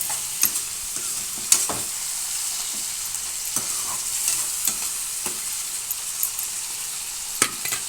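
Tomatoes sizzle and stew gently in a hot pan for an egg curry, a steady soft frying hiss broken by occasional sharp clicks and taps of a stirring utensil against the pan.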